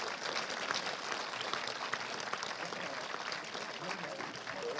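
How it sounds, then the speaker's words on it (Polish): Audience applause at a debate event, moderate clapping sustained throughout at medium distance, with no clear speech over it. "Oklaski dla Mai, panie prezydencie"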